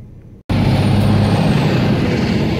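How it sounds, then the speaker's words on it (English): Loud trucks roar past a roadside stop near a van, a sudden heavy rumble kicking in after a brief quiet moment and holding steady and close for the rest of the clip. "Got a lot of loud trucks around me."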